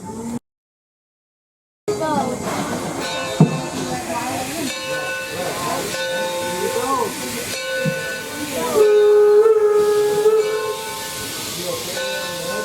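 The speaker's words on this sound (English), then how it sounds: "We'll just wait till the train moves" Steam locomotive Torch Lake No. 3 at Greenfield Village getting under way, with hissing steam, chuffing and a sustained whistle tone, heard close by under intermittent talk from riders.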